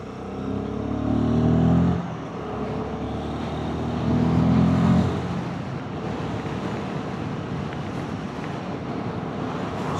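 A Royal Enfield Guerrilla 450 single-cylinder motorcycle accelerates on a test ride, its engine note climbing through two gear pulls with a brief drop between, under heavy wind rush.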